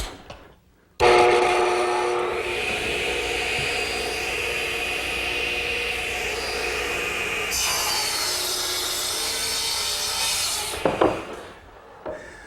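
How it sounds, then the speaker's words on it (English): A radial arm saw rips through a length of 1x10 oak board, a loud, steady whining cut that holds for about ten seconds and then winds down with a few clunks as the cut finishes. "I'm going to take this length of 1x10 oak and cut 3 pieces 46 inches long for the top here at the radial arm."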